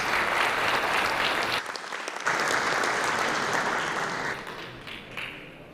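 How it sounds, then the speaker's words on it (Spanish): Sustained audience applause greets a guest, the director of Mexico's national Indigenous peoples institute, at a formal launch event for an indigenous languages action plan; dense steady clapping that dips briefly midway, then slowly fades. "Aplausos."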